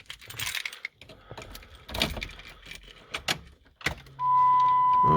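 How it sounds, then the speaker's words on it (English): Keys jangling and the ignition of a Jeep Grand Cherokee ZJ switching on inside the cabin, a few clicks and rattles followed by a steady electric chime and hum. "Just gonna switch on my ignition here."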